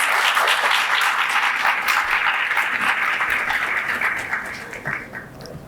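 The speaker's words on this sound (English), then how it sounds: "Let's welcome her with a warm round of applause." Audience applause fills a law school orientation event, dense steady clapping from a crowd that continues throughout and gradually thins toward the end, with no talking over it.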